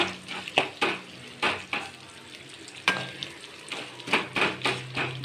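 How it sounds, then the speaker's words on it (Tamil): Sliced onions frying in a pan while a vegetable kuska is cooked, with a steady low sizzle broken by repeated clattering stirs of a spoon against the pan, some close together in quick bursts. "வெங்காயத்தை போட்டு பொன்னிறமாக வதக்கி கொள்ள வேண்டும்."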